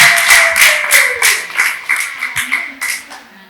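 Church congregation clapping hands in a rapid, uneven series of claps, loud and close, with a voice briefly heard at the start alongside.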